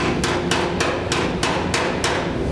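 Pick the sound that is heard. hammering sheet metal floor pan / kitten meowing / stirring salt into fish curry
hammering sheet metal floor pan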